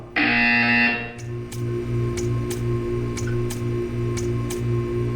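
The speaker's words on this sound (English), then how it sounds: "You will hear a buzzer. When you hear the buzzer, stare at the art." A Portal 2 art-test buzzer sounds first as a loud, harsh tone for about a second, then gives way to a humming electronic drone with regular faint ticks and bright clicks repeating evenly.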